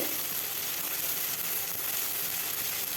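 Chopped tomato frying in oil in a pan while cooking a pomfret fish curry with mustard and poppy seed, a soft, even sizzle that continues steadily and fairly quietly throughout.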